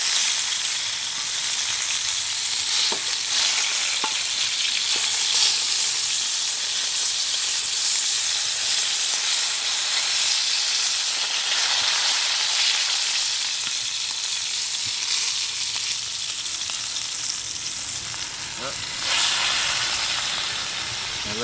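Oxtail pieces fry down in a pot with a loud, steady sizzle and hiss that runs unbroken from start to finish, close up, with no voices over it.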